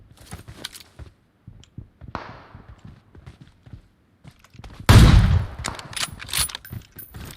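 Gunfire in a video game: scattered clicks and footstep-like taps give way to a loud, booming burst of shots about two-thirds through, followed by several more sharp cracks in quick succession.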